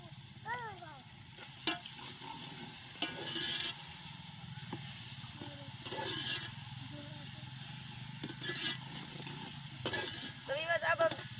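Chopped tomatoes fry in a pot over an outdoor village cooking fire while a utensil stirs and scrapes, giving a steady sizzle broken by scattered clinks, and faint voices sound in the background.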